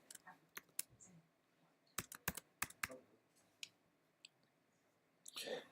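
Someone types code on a computer keyboard in quiet bursts, with scattered single key clicks and a quick flurry of taps, then a short rustle at the end.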